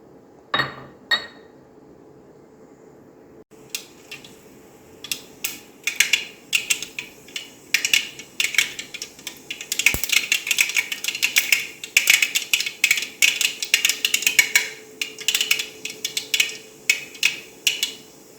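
Mustard seeds spluttering in hot oil for a roasted-ground chickpea kuzhambu, sharp close pops starting sparse and growing into dense rapid crackling that continues to the end.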